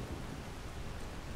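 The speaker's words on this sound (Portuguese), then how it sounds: "Tempestade." A thunderstorm in Skyrim, the video game: steady, dense rain hiss fills the scene, with deep thunder rumbling underneath throughout.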